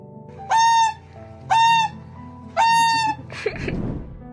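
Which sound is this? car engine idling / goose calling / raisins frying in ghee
goose calling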